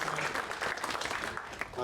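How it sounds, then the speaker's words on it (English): Steady applause from an audience at a Black History Month fireside chat at a law firm, following a councilman's talk, fills the whole stretch, a dense patter of clapping at moderate volume with a murmur of voices underneath. "Let's give him a round of applause."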